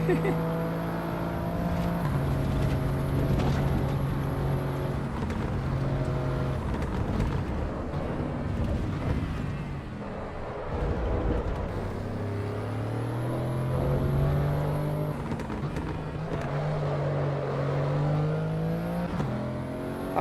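A race car engine in Assetto Corsa Evolution on a track day, a steady droning whine rising and falling through gear changes, moderately loud beneath someone talking.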